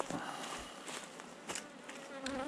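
Honeybees humming steadily inside an open hive at an apiary by a lake in late June, a dense continuous buzz with a few brief louder swells, close and alone without talk.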